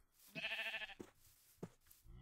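A Minecraft sheep gives a short, nasal, wavering bleat, clear and close, followed by a couple of soft clicks and game sounds in a quiet scene.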